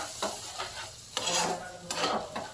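Chicken gravy is stirred in a pan, with rhythmic scraping strokes of a spoon over a soft ongoing sizzle, close and fairly quiet.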